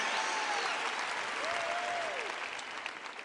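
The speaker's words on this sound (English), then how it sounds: "I applaud you." A large church congregation applauding, a dense sustained roar of clapping from many hands filling the space, with a faint tonal voice sliding briefly through it.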